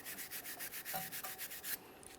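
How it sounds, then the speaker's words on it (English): Parking brake arm from a 2008-2017 Mitsubishi Lancer rear brake getting scrubbed clean by hand, a quiet, steady back-and-forth rubbing with evenly spaced strokes, close up and with no talking. "I'm also going to make sure I clean this parking brake arm."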